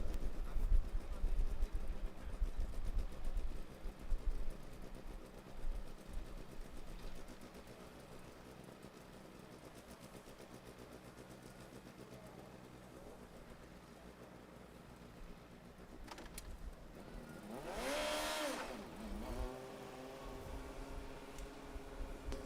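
A Formula Student driverless race car's engine idles faint and distant, then a sharp, loud rising whine as the car starts off and accelerates near the end.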